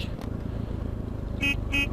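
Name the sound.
car horn honking in GTA San Andreas video game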